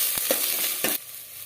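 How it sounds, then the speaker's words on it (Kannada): Onion, cumin and curry leaves frying in a pan, a brief close sizzle with a few quick spatula scrapes before the sound drops away. "ಈರುಳ್ಳಿ ಕೆಂಪಾಗುವವರೆಗೆ ಫ್ರೈ ಮಾಡ್ಕೊಳ್ಬೇಕು"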